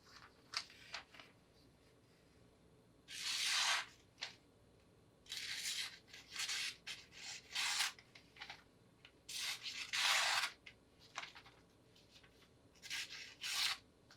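A Benchmade 9400 knife blade slicing through material, several separate scraping, rasping strokes of a second or so each with quiet gaps between, close and fairly faint.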